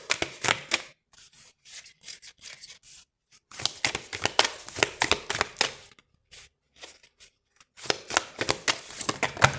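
Tarot cards are shuffled close up in quick bursts of crisp riffling and slapping, with short pauses between several rounds of shuffling.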